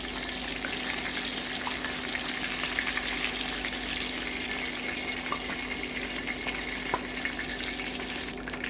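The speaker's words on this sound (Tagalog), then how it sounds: "And fry it again for another 6 minutes." Chicken pieces fry in hot oil, a dense, even bubbling sizzle that holds steady and fairly loud from start to finish, with a faint constant hum underneath and no voices.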